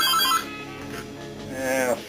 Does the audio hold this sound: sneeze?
no